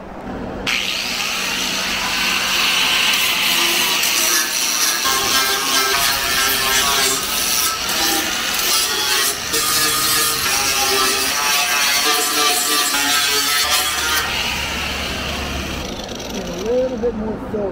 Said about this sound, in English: Fill weld a couple more over here.